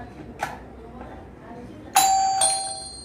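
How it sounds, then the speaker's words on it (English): An electric doorbell in a newly wired room, set off by a switch: a faint click comes first, then a loud, bright electric ring starts suddenly and holds steady with a second strike, close to the listener. "And now we are going to check the bell."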